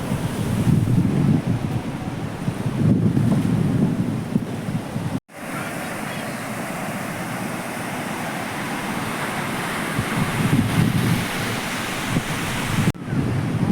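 Strong wind buffets the microphone on a beach, with the rumble of surf beneath; a brief dropout interrupts the steady roar.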